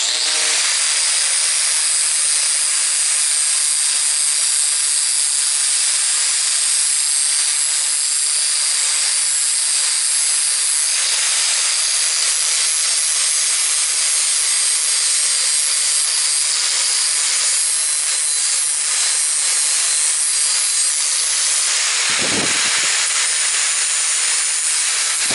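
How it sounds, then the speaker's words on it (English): A heavy-duty 40-grit flap wheel grinding sheet steel for a quarter-scale chassis: a loud, steady, harsh hiss that continues for the whole stretch, broken only by a short dip before resuming. "So I put on a flapper wheel, of course, you know, heavy duty, 40 grit"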